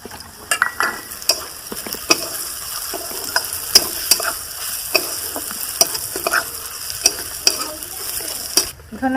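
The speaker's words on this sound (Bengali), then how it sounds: "ধনে গুঁড়োটা দিয়ে একটু নেড়ে নামিয়ে দিচ্ছি" Spices with turmeric and coriander powder fry in a pan for an egg do-pyaza masala, a constant sizzle punctuated by frequent sharp scrapes and clicks of a spatula stirring against the pan, no voices.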